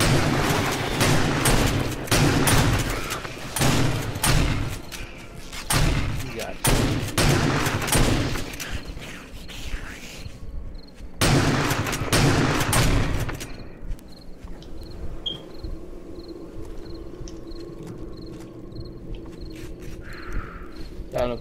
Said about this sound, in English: I'm shooting zombies now.